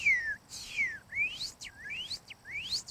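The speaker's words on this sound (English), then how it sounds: "like say a cardinal," A northern cardinal sings a series of clear, descending whistled slurs, repeated about five times in steady rhythm, fairly near and alone with no voices.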